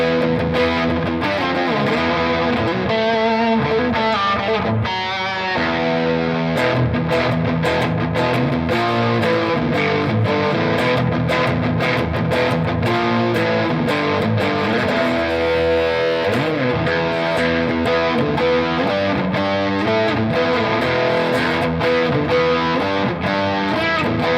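Heavily distorted electric guitar through a 1970s Muff-style fuzz pedal plays continuously, thick and fuzzy with dense, saturated chords and riffs, loud and sustained with no voices.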